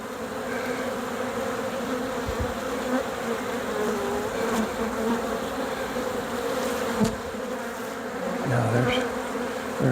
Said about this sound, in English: Kind of have to go through these handfuls of bees and kind of see if there's a queen in there